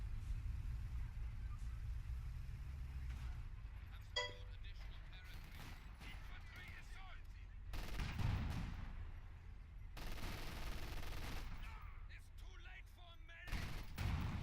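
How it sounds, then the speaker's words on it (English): Anti-tank gun fire in a WWII strategy video game set around Tilly-sur-Seulles: a few scattered heavy bursts and low rumbles over a continuous battle din, moderately loud. "now they're taking some AT fire from the side here"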